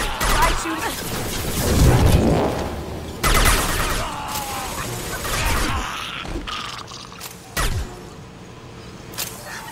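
Gunfire in the sci-fi shooter Mass Effect 2, several loud bursts of shots with crashing impacts across a busy combat soundscape, with voices talking over the action.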